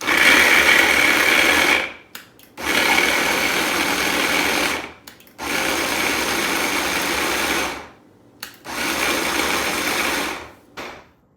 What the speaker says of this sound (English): We're just going to pour them into our little food processor blender here